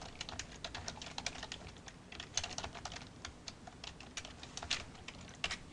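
Typing on a computer keyboard while entering accounting data, with a steady stream of soft, rapid key taps at close range and no speech.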